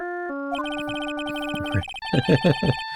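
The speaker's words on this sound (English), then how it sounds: "It was about this ringtone." A phone ringtone from the Phoenix Wright: Justice for All video game chirps as a bright electronic melody of stepped tones, repeating in loud, clean bursts.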